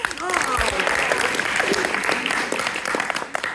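An audience breaks into steady applause as a guest walks out, a dense wash of clapping that holds for a few seconds and then thins.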